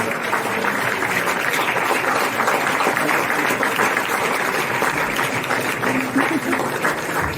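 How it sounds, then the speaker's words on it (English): An audience applauds the President at a formal event for the MCC scorecard, a dense, sustained clapping that stays fairly loud throughout, with voices audible beneath it. "Est-ce qu'on peut davantage applaudir pour Monsieur le Président"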